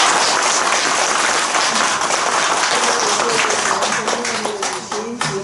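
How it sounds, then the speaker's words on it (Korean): An audience claps loudly and densely after a Buddhist monk's talk, a thick wash of applause that slowly thins out toward the end while a voice speaks over it. "지용 큰 스님께 다시 한번 큰 박수를 부탁드립니다"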